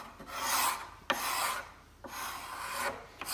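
A scraper pushes softened paint stripper goo across old painted timber floorboards in long rasping strokes, three broad scraping passes with short gaps between, close and fairly loud with no talking.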